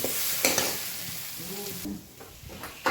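Mustard paste masala sizzles and fries in a pan for a fish curry, a steady broadband hiss with brief stirring scrapes and a faint voice murmuring underneath.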